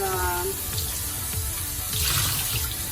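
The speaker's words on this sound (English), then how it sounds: "I'm going to just wash these potatoes and put them in the hot water." Tap water runs steadily into a sink while peeled potatoes are rinsed, with a continuous broadband splash and faint clunks from handling. Brief tonal sounds appear early on, and no one speaks.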